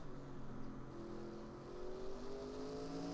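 Race cars lapping a track in a racing video game, engines whining steadily at a moderate distance with slowly rising and falling pitch, quiet and continuous.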